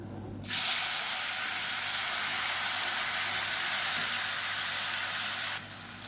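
Two medium tomatoes hit hot oil for a kurma, bursting into a loud, steady hiss and sizzle that starts abruptly and holds evenly for about five seconds before cutting down.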